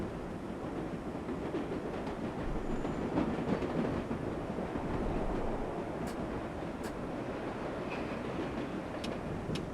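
A subway train in the World of Subways 4 game runs along the track near Willets Point Station, giving a steady, close rumble with faint wheel clicks and occasional high squeaks throughout.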